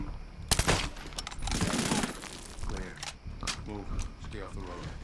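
Muffled thuds of suppressed gunfire from a silenced weapon in Medal of Honor Warfighter, a few quick shots near the start followed by rustling movement as someone speaks over the game.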